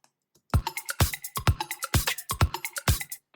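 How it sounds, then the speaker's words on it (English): Isolated bell sound pulled from a drum loop, a string of sharp popping metallic hits in a quick, uneven rhythm, close and alone with no talk. "So you have that weird popping bell sound."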